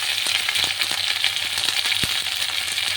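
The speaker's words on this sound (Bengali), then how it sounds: "এই এবারে শাকগুলো দিয়ে দেবো একটু।" Washed, chopped leafy greens fry in hot oil with a loud, crackling sizzle, scattered with small clicks and one sharp knock against the pan, close and without any voices.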